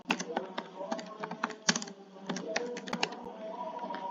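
Fingers type steadily on a computer keyboard, with quick, irregular clicks and occasional firmer keystrokes close to the mic. No one speaks.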